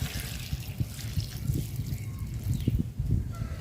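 Hot water pours into a pot of duck curry as a soft, continuous trickle with a low rumble underneath.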